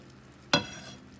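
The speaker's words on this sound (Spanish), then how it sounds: "Ahora ponemos un poquito de la salsa por encima del pescado" Sauce poured over fish in a hot pan gives a single sharp, close sizzle that bursts up and fades within about half a second, over quiet kitchen background.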